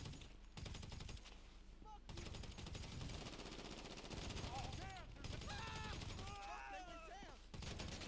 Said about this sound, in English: we're just gonna try to shoot as many of them as we can